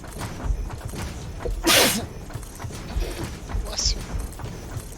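A single sharp sneeze bursts out loud and close, a brief explosive blast standing out against low background chatter and game sounds.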